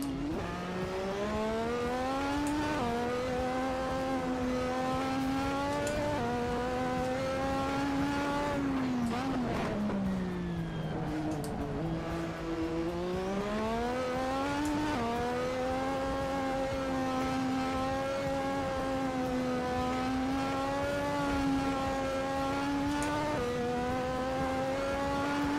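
Turbocharged race cars in Assetto Corsa, engines droning loudly and continuously with rising and falling revs through gear shifts, several cars close together without any talk.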